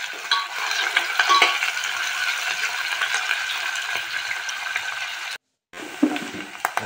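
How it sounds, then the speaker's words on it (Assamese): Chopped onions sizzle steadily in a pan for an Assamese mutton curry while being stirred, with scraping strokes over the hiss, a brief pause near the end, then sizzling and stirring again. "অলপ ৰঙচুৱা হোৱালৈকে ভাজিম।"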